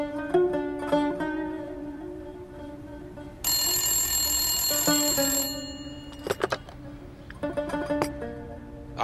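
A telephone rings when someone calls a shop, in a dubbed scene from the drama Valley of the Wolves. A bright, loud ringing tone holds for about two seconds mid-clip, with softer tones and clatter before and after.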